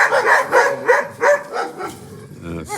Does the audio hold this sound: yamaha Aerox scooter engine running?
no